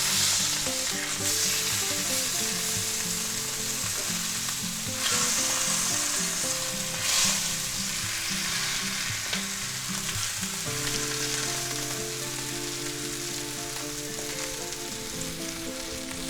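Pork tenderloin searing in a hot pan gives a steady, close, hissing sizzle that runs unbroken throughout, with no voices.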